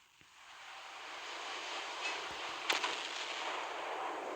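Naval guns fire at battleships in the Naval Creed ship game, with a sustained rumbling broadside backdrop and a few sharp distant-sounding reports, including one louder crack near the end.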